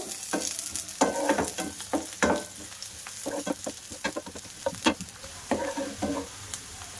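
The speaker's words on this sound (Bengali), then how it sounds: "তো লাল লাল করে ভাজা করে নিয়েছি।" Onion, garlic and green chili frying in a pan for aloo puri filling, a steady sizzle broken by repeated scraping stirs, close and moderately loud, with no talk.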